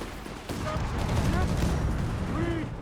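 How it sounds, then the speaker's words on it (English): British howitzer artillery fire booms through a Company of Heroes 3 battle, steady rumbling blasts and scattered shots carrying across a busy war soundscape while a commentator talks over it. "British howitzers almost got Charlotte's second howitzer"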